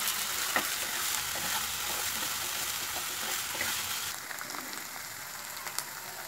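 Ginger-garlic paste and crushed onion fry in a pan with a steady broadband sizzle throughout, with a few scraping stirs near the start and a slightly quieter crackle toward the end. No one speaks.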